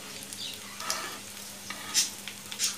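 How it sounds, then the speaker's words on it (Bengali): Potato and egg kababs shallow-frying in oil give off a soft, steady sizzle with a few brighter crackles and pops, heard fairly quietly with no voices. "এইভাবে প্রত্যেকটা কাবাব ভেজে নিতে হবে"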